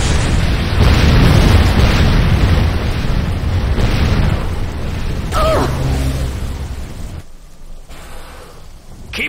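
Buildings blow up in the Command & Conquer shooter Renegade, with loud rumbling booms and crackling blasts rolling over one another, a sharper burst near the middle, then fading to a quieter roar.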